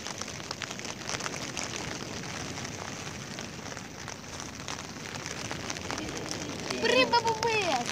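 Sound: rain

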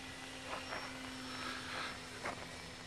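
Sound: Skytrainer 400 model airplane engine at full throttle

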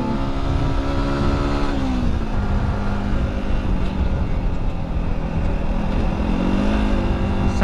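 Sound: Bumblebee car engine driving off

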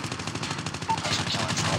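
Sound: MSMC gunfire in video game Call of Duty Mobile

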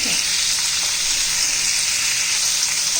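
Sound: ridge gourd pieces sautéing in oil

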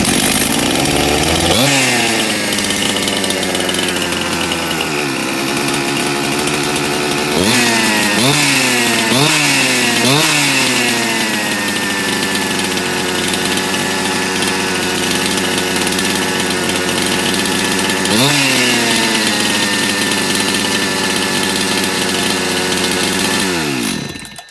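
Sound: Husqvarna 268 chainsaw engine running, nearly 30 years old

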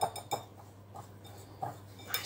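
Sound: mixing pudding batter with apricot jam in a bowl

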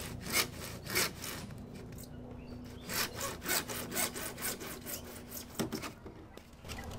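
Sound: hand saw cutting PVC pipe

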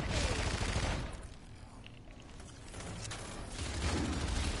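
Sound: rifle gunfire in a shooter video game

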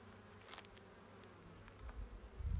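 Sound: Buckfast honeybees buzzing at the hive

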